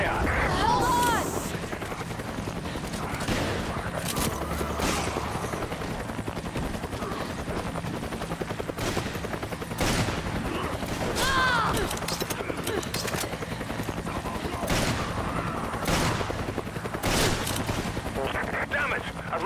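Gunfire in the video game Resident Evil 5: repeated sharp shots burst out over a steady droning background hum, loud and close, with a few sustained rattling volleys scattered through the stretch.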